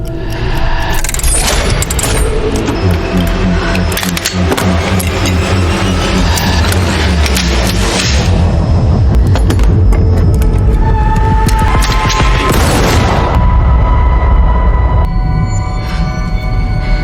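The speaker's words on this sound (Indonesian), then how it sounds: "Keduanya dituntut untuk berlomba mengisi amunisi senjata dan menembak lebih dulu." Gunfire in a John Wick film fight scene where two fighters race to reload and shoot first; dense, loud, continuous shots and mechanical clatter layered over a driving score, with no pauses.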